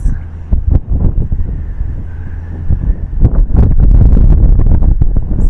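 Strong wind roars and buffets the microphone continuously at the edge of a sea cliff at Devil's Bridge, Antigua, growing louder and more turbulent toward the end, with gusty low rumbling throughout.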